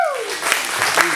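A crowd at a peace march in Atlanta claps briefly, a burst of applause heard under a speaker's voice.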